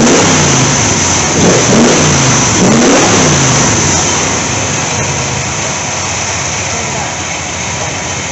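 Car engine idling and revving steadily after an ignition wire fix to a misfiring cylinder, a continuous close engine note with a few swells of revving early on, no ticking evident.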